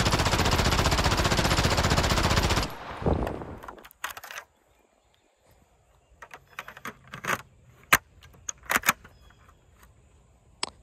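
A LEGO P90 replica gun fires a rapid full-auto burst of dense mechanical clatter for nearly three seconds, then stops. Several sharp, isolated clicks and snaps from handling follow, loud and close, with no talking.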